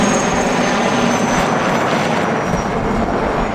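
A helicopter drones steadily and loudly overhead, a continuous broadband rotor and engine roar that fills the whole stretch without breaks, called in to drop ostrich eggs from 100 metres.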